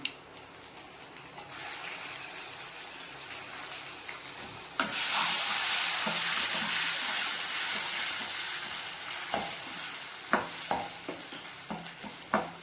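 A ground paste of green chili, mint, coriander and garlic with salt is sautéed in a pan. After a quiet start, a sudden loud sizzle breaks out and settles, then sharp taps and scrapes of a stirring spoon follow.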